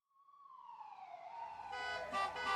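An ambulance siren in a cartoon, a single tone sweeping down then wailing and rising in pitch, growing steadily louder and closer, ending with bright overlapping tones.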